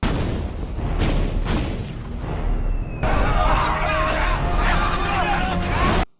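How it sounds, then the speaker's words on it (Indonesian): Heavy booming cannon blasts rumble, then a sudden loud crash of a ship smashing and splintering continues for several seconds, close and dense. "Tiba-tiba, meriam meluluhlantahkan kapal ini."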